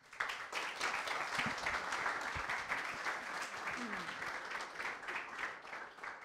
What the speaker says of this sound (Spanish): un aplauso y los dejo a ellos